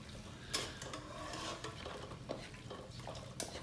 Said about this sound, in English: Now continue mixing further.